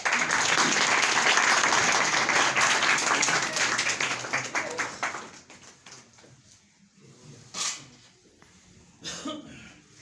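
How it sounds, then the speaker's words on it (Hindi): Audience applause at a Christmas cake-cutting event, dense clapping for about five seconds that thins out, followed by scattered knocks and a cough in the quiet hall. "आपकी तालियों के साथ"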